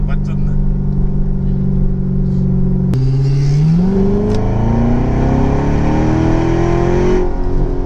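A car is driven along, heard from inside the cabin. The engine drones loudly, then after a sharp shift its pitch climbs steadily as it accelerates, with faint voices in the background.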